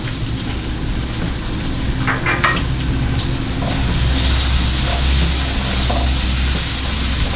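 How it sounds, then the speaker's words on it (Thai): Squid stir-frying in a pan with yellow chili, a steady close sizzle with faint scraping stirs through the whole stretch, no voices. "ผัดไปเรื่อยๆเลยนะครับ"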